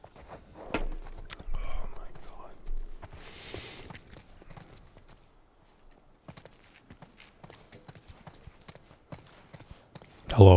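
Horses walking in The Last of Us Part II, hooves clip-clopping in a light, irregular rhythm under quiet whispered talk, with a louder burst at the end.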